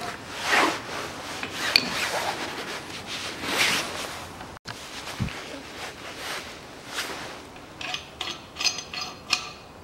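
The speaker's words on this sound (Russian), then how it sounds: "Сейчас ее развальцую" A staked nut that holds a bearing inside the automatic transmission of a 2004 Mazda Demio 1.3 is worked loose with a tool, producing close scraping, rasping and grinding strokes broken by sharp knocks and clicks.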